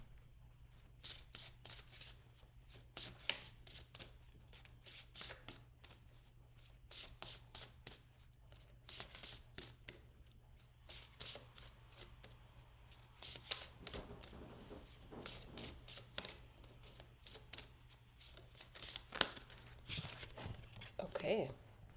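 New Orleans Oracle deck cards riffle and slap in quick, repeated shuffles, close and soft, while someone talks quietly throughout.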